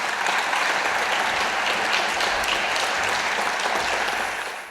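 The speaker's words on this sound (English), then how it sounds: "A big round of applause to all of our candidates." A town hall crowd for the Melbourne Lord Mayoral election applauds the candidates, with a loud, dense wash of clapping that stays even and tapers off slightly at the end.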